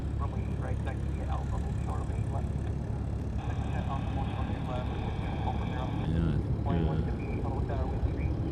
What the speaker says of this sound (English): I can hear some F-22s.